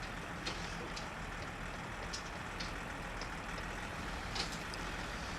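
A diesel truck engine runs steadily in My Summer Car video game, a loud, dense, even rumble with occasional faint clicks and ticks over the top and no talking.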